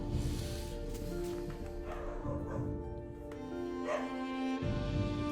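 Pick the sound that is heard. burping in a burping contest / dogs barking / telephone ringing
dogs barking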